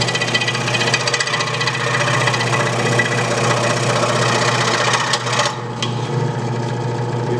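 A power saw cuts diagonally through a piece of wood for a mousetrap car build, giving a loud, continuous grinding whine that holds steady for several seconds with a brief dip near the end, no voices present.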